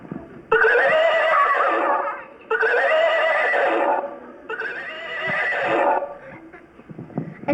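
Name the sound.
horse neighing, radio play sound effect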